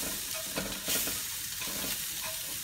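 Food sautés in olive oil in a cast-iron pot, a close, steady sizzle with scraping stir strokes, moderately quiet and without voices.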